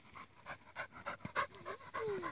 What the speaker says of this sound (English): Ooh, Troy. The dog Troy.